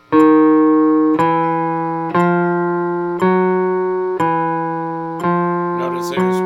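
Clean electric guitar notes picked one at a time in a steady, slow rhythm, each ringing out with sustain and no audible string noise, fairly loud, with a little rustle near the end.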